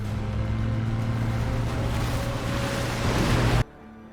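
A rescue boat pounds through crashing waves in a snowstorm, a loud roar of surf and wind over a low engine drone, ending in a sudden cut to near quiet.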